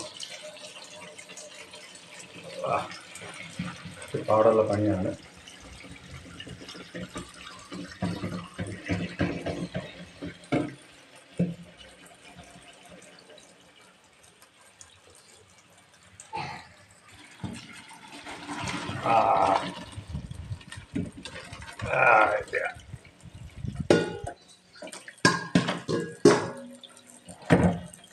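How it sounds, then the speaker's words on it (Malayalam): Water from cooked ada, rice flakes for pradhaman, pours through a strainer in a kitchen, with splashing and trickling bursts that rise and fall, and brief speech in between. "ഇതിൻ്റെ വെള്ളം കളഞ്ഞിട്ട് നമ്മൾ തീ ഓഫ് ചെയ്തു വെള്ളം അരിച്ച് കളഞ്ഞിട്ട് സ്ട്രെയിൻ ചെയ്തെടുക്കണം"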